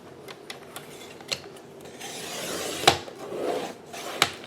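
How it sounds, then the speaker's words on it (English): A paper trimmer slices cardstock in half with soft rubbing, sliding scrapes and a few sharp clicks and snaps, heard up close in a quiet room. "Now I'm going to put them back on my trimmer, and I'm going to cut them in half."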